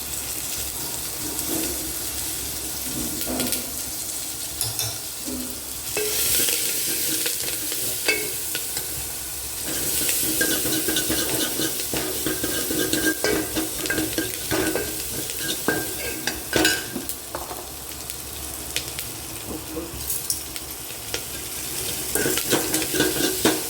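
Garlic, onion and curry leaves fry in oil in a pan while being stirred, giving a steady close sizzle with repeated scraping strokes throughout, and no talking.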